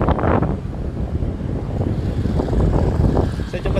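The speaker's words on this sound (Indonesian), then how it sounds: "Di sini lagi banyak angin dan banyak kendaraan." Strong wind buffets the microphone outdoors in a steady low roar, with passing traffic rumbling beneath it throughout.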